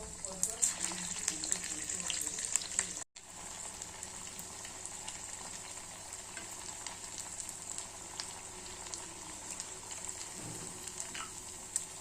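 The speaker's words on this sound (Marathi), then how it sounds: "या पद्धतीने छान अशी मी डिश तळून घेत आहे।" A crispy snack made from raw potato fries in hot oil with a steady, bright sizzle that runs throughout, close and even, with faint clinks and movement early on.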